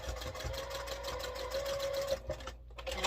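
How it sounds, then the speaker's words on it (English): Sewing machine stitching rows of a quilt block, a fast continuous mechanical whirr and rattle at close range that pauses briefly near the end before starting again. "I brought everything up here to my sewing table on where my sewing machine is here on the table"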